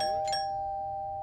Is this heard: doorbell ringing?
yes